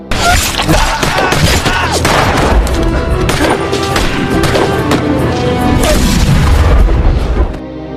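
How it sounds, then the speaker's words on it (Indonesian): Sustained loud action-film gunfire from henchmen ambushing police, dense bursts and heavy booms layered over a continuous score for nearly the whole stretch, cutting off abruptly near the end. "anak buah Garcia muncul dan langsung menembaki mereka semua"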